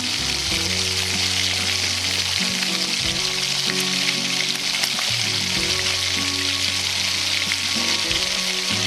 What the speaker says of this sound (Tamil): எண்ணெய் நல்லா சூடாகி வந்ததும் நம்ம ஃபோல்ட் பண்ணி வச்சுருக்க சமோசாஸில் இதில் போட்டுக்கலாம்